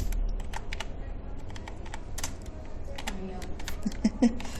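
Rapid, uneven key clicks on a computer keyboard, close and moderately loud, coming in short bursts with brief pauses.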